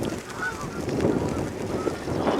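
A flock of geese honking outdoors in winter, with many overlapping calls at a medium distance over steady background noise.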